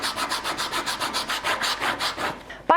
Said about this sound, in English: So I'll do that with my sanding file again.